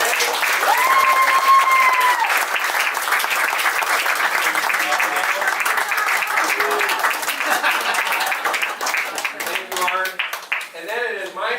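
Picnic crowd applauding State Representative Art Staed outdoors, sustained clapping with a brief whistle early on, thinning toward the end as voices emerge under it.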